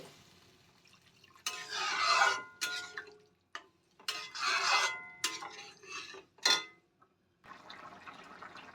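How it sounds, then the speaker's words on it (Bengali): Water poured into a pan of fried spices for a thin fish curry, with bursts of splashing and sizzling broken by short pauses and a softer steady hiss near the end. "এবার আমি পরিমাণ মতো জল দিয়ে দেব।"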